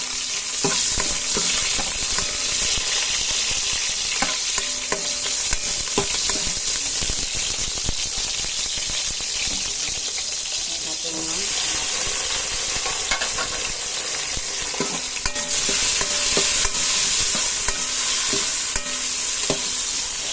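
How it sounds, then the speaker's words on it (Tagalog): Onions and garlic sizzle in a pot while being stirred, a steady bright frying hiss with frequent clinks and scrapes of the utensil against the pot throughout. "Mix natin na guys yung sibuyas."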